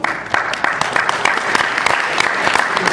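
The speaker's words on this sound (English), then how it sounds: "She gets the applause." A conference audience at a SMART Recovery International 2018 gathering applauds a newly introduced attendee, with steady dense clapping heard close and loud, and no talk over it.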